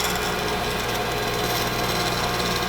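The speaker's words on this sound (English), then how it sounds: "the cleaner the cut you make off the bandsaw" Loud, continuous power saw whine and buzz of a bandsaw cutting out a glass insulator angel shape, steady throughout with no pauses.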